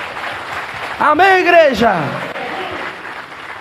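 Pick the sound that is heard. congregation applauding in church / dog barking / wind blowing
congregation applauding in church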